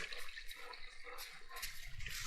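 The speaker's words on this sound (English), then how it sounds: "It's overflowing this cistern right here." Water spilling over the rim of a cistern and running down toward a creek bed or gulch, a steady close splashing trickle with broad hiss, continuous and alone.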